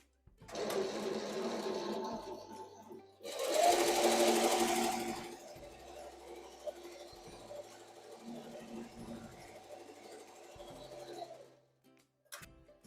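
An embroidery machine stitches a tack-down line on a Velcro patch: a steady motor whir with rapid needle stitching, a louder burst partway through, then continuous running until it stops near the end.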